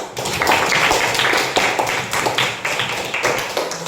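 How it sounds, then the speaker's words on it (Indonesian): Students in a school classroom clap together in a brisk, uneven burst of close hand claps lasting a few seconds, with no speech over it. "Oke, tepuk tangan."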